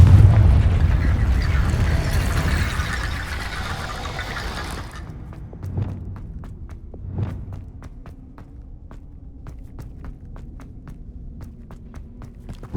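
Confringo fire-blast spell cast in the Hogwarts Legacy game, a broad rumbling burst in the opening seconds that cuts off, followed by quieter thuds and sharp ticking impacts.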